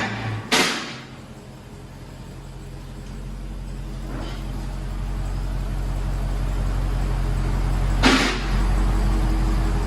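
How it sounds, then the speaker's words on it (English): A 2018 Dodge Charger Hellcat with its 6.2L engine and stock exhaust, before a mid muffler delete: a deep, steady idling rumble that slowly swells louder, with a few sharp clacks from nearby. "2018 Dodge Charger Hellcat. This is what it sounds like before."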